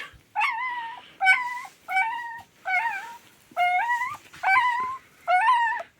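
Newborn puppies, about a week old, whimpering in a litter, a series of high, rising and falling squeals coming in seven distinct bursts, close and fairly loud, with no talking.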